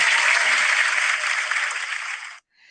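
Applause from an online awards audience, a dense steady wash of many hands clapping that fades and cuts off near the end, followed by a brief faint patter.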